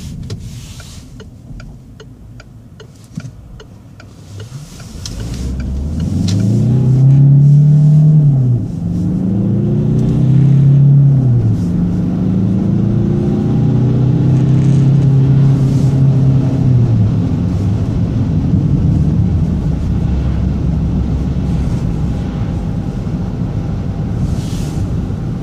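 A Peugeot 508 RXH hybrid coasting in electric ZEV mode with the engine off, giving a steady low road and tyre rumble with a faint rising electric whine, loud and continuous with no voices.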